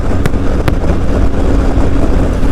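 Benelli TRK 502 X motorcycle on the move, a steady engine drone close by, buried under heavy wind buffeting at the microphone, with two brief sharp gusts.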